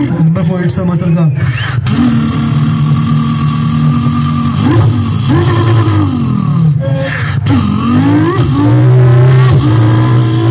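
A voice mimics a muscle car engine with a loud, close, rumbling growl, punctuated by several sharp revving swoops and a deeper roar near the end.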